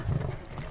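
A cave bear in Far Cry Primal lets out a short, loud roar, close and growling, heard briefly without other sound.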